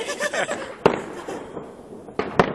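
Two sharp firework bangs burst from somewhere below, one near the start and another toward the end, each with a short crackling tail over a noisy outdoor background.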